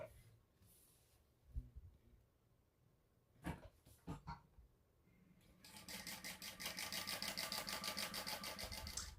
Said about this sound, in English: we're going to top stitch across the top edge at 1/8 of an inch seam allowance